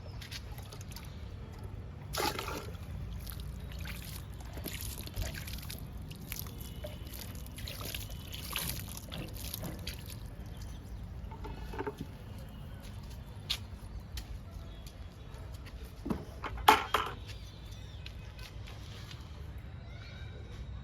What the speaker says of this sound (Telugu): ఇంకా లైట్గా వాటర్ ఇద్దాము